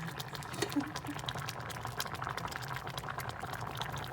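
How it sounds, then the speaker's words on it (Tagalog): Broth is poured into rice and gives a soft, continuous bubbling, liquid trickle at moderate loudness, with a few faint clicks. "so lagyan na natin ng sabaw yan"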